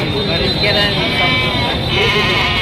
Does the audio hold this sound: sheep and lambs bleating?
yes